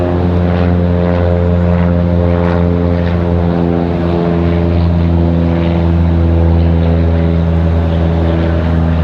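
A small propeller airplane departs from Raleigh Durham International Airport, its engine drone loud, steady and continuous throughout, with no talking.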